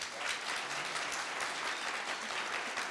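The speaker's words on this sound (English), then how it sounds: "huge round of applause again" A creator-conference crowd claps continuously in a dense, even wash of applause, moderately quiet and sustained throughout with no talk over it.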